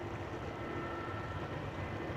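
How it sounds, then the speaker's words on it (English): A jet airliner's engines spool up at Amsterdam Schiphol near the Polderbaan runway, a steady broad roar with a low rumble, continuous and fairly distant through the whole stretch, with no voices. "I am hearing an airplane spool up"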